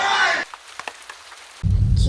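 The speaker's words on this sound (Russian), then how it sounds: "Дождь шпарит." Heavy rain hisses in a dense, steady wash, cut off briefly by a quiet gap before the downpour roars back.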